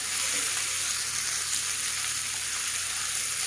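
Potato pieces frying with salt and turmeric in hot oil, a dense, steady sizzle that holds loud and even from start to finish with no talk.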